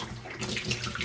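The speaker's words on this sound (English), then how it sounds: "we'll dump the water and we'll see how it looks" Dirty cleaning water being dumped out, a steady rushing pour that swells louder halfway through, close by and with no talking.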